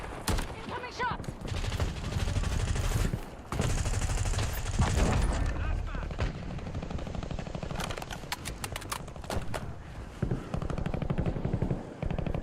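Incoming gunfire in a video game: dense, loud bursts of rapid automatic shots and fusillades pour in close, pausing briefly before resuming in sharp volleys, with a faint voice underneath.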